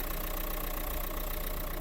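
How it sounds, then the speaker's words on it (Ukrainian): A 2013 Renault Scenic X-Mod engine idling steadily up close, an even mechanical hum and chatter with no change in pace. "ви гляньте, як працює двигунчик, як швейцарські часи"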